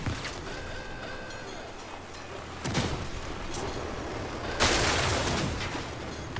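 Arothron fragment shotguns mounted on a fast tank-car in the vehicle combat game Crossout let out two loud, sharp blasts a couple of seconds apart over a constant engine rumble.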